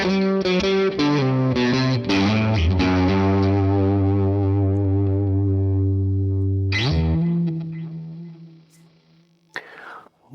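Electric guitar played through an SW50R amplifier at its stock settings, a loud strummed, distorted chord sequence ending in a long ringing sustained chord, then a brief scrape and a final note.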